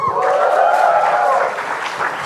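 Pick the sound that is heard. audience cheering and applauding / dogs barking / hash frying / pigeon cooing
audience cheering and applauding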